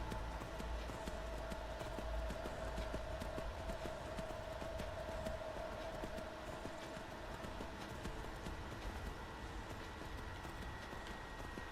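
Horse hooves clip-clop steadily through the whole stretch in the video game Skyrim, a bandit's horse moving at a walking pace under a constant ambient bed, close and clearly audible.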